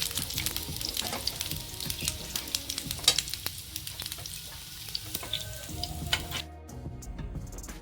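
Eggs sizzle and spit in hot oil in a frying pan, cooked on both sides for Afghani malai egg tikka; a steady close crackle with sharp pops, fading near the end.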